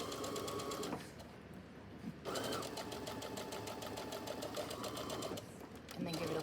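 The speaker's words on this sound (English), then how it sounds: "Sewing around that curve, just like we practiced the first day of sewing machine class" A sewing machine stitches a curved seam on a pair of pants, running in steady mechanical bursts with brief pauses between runs, close and clear, while someone talks over the whirring.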